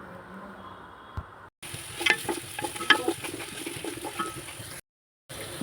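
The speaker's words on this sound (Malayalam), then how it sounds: "അരിഞ്ഞു വെച്ച വെജിറ്റബിൾ വലിയുള്ളിയും അതുപോലെ തന്നെ ക്യാരറ്റും ഇതിലിട്ട് നന്നാക്കി ഒന്ന് വഴറ്റി കൊടുക്കാം" Chopped onion and carrot sautéing in a pan for Arabic chicken madhooth, a soft frying hiss with scraping stirs and light clinks, broken by a brief silent gap near the start and another near the end.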